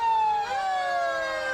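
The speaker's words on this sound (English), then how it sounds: "Lots of sirens for the kids." Cumberland Fire Department fire truck sirens wail loud and close, rising and falling tones overlapping with a second siren, over the rumble of passing vehicles.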